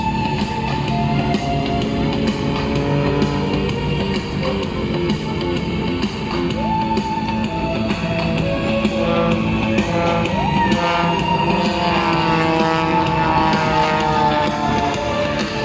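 At the Shellharbour airshow, a Wolf Pitts Pro aerobatic plane's engine drones loudly and continuously through rolls, its pitch shifting and sliding as the aircraft manoeuvres.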